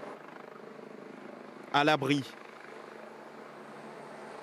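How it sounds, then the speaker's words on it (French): Civil security rescue helicopter over flooded homes, a steady low rotor drone throughout, with a short spoken phrase over it midway. "C'est finalement un hélicoptère de la sécurité civile qui viendra la délivrer de sa maison"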